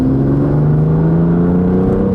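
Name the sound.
BMW M2 six-cylinder engine revving with exhaust blip on downshift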